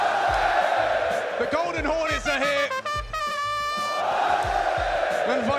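A loud arena crowd roars and cheers at a Counter-Strike grand final in Paris, with sustained whoops and chanting. A caster's voice talks over the steady din.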